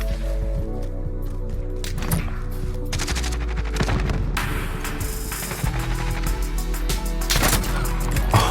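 Gunfire from an SP-R 208 sniper rifle in the video game Modern Warfare, with a few sharp shots, clicking bolt and mechanism sounds, and other gunfire running under a busy game mix.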